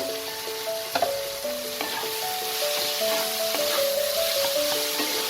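Chicken cutlet mixture with garam masala and salt frying in a pan over a slow flame, a steady close sizzle with occasional scraping stirs, and no talking.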